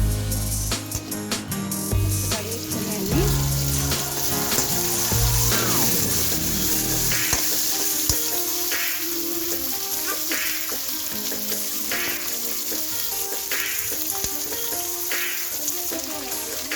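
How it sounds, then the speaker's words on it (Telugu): Coriander seeds fry in a pan for a spicy bitter gourd and onion relish, giving a steady crackling sizzle with scraping stirs early on, then settling into a softer, even hiss. "వీటిని వేయించుకోవాలి అలాగే ఇంకొక పిరికడు ధనియాలు కూడా వేసుకోవాలి"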